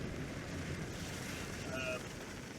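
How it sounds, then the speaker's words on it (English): Water rushing and rising as a ship sinks in the Sea of Thieves video game, a steady, dense wash of waves and wind noise throughout, without speech. "Why does I hear water rising?"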